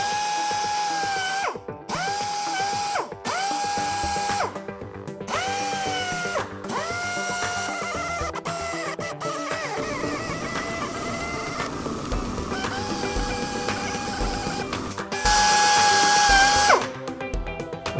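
A power drill fitted with a 180 grit sanding pad works a Mercedes-Benz C200 wheel, whirring in short, close bursts with pitch swells, then grinding in a longer stretch of rough sanding.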